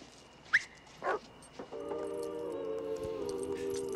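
A dog in the 1987 film Lethal Weapon gives a couple of short, sharp barks up close, followed by a sustained whining tone over a steady background hum.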